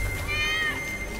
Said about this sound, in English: Oh no, the kitty cat!